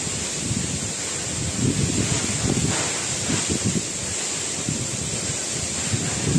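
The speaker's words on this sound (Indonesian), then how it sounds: "Di belakang saya ada air terjun." Falling water from Coban Rondo waterfall in Pujon, Malang, roars steadily and nearby, a dense unbroken wash that swells slightly midway, with no voices.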